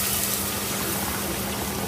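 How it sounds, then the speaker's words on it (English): Boiling water poured into a pot of rice for lamb curry, a steady, dense rushing pour that fills the whole stretch without a break. "I'm using boiling water."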